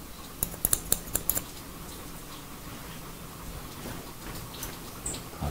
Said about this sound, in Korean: 옆가위로 한번